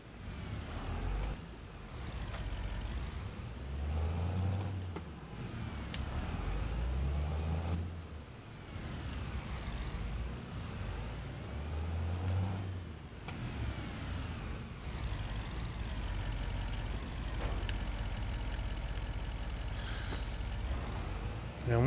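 A truck in Farming Simulator 25 reverses to hitch a green trailer: a steady engine rumble, repeated reversing beeps and several air-brake hisses, close and clear.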